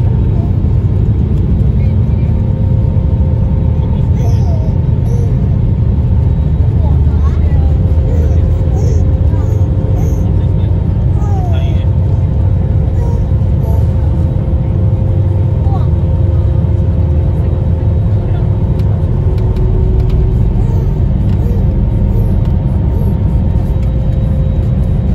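A loud, steady low rumble of jet engines fills an airplane cabin during takeoff on a long flight, continuous and droning throughout, with faint voices now and then beneath it.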